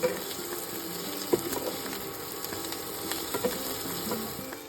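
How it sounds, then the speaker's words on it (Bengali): Marinated potatoes frying in a pan, a steady, dense sizzle heard up close, with occasional soft clinks and scrapes of stirring over the continuous hiss. "এবার কিন্তু ভালো করে ফ্রাই করে নেব, বেশ অনেকক্ষণ সময় ধরে ফ্রাই করব।"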